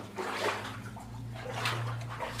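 Footsteps slosh and splash through shallow water inside a Victorian-era barite mine tunnel, a continuous wet churning heard up close, with a low steady hum underneath.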